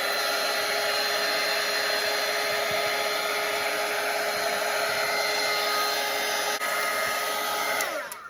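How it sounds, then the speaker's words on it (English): A hair dryer runs steadily at close range to dry a watercolor painting of a bird's nest with blue eggs, giving a loud, constant whir that holds for several seconds before cutting off at the end. "I'm gonna dry it."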